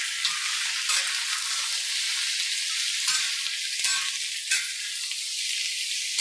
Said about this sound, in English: what I have to do is cook the potatoes until they start to soften